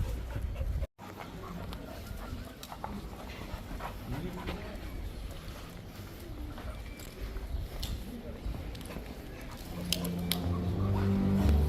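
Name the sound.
thirsty tired dogs panting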